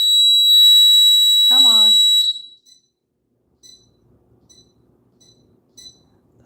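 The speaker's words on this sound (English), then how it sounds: "I forgot I set the alarm again. Yeah, it's fucking loud when that goes off, right?" A loud household alarm blares a steady, piercing high-pitched tone for about two seconds and then cuts off abruptly, with a voice speaking briefly over it near the end, followed by quiet faint sounds.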